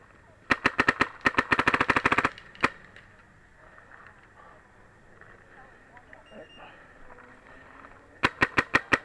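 Automag and clone gt/i paintball markers fire in semi-auto, a rapid string of sharp pops, then a lone shot, a quieter stretch, and another fast burst at the end.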